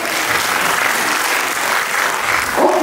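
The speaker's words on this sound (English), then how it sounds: "So let's give them a huge round of applause," Applause from an audience for a team after its presentation at a business idea competition grand finale, a steady, fairly loud burst of clapping lasting a few seconds.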